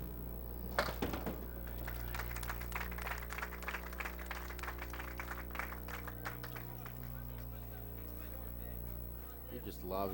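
A studio crowd at a candlepin bowling show applauds, a dense patter of clapping that lasts most of several seconds before fading, while commentators' voices talk over it.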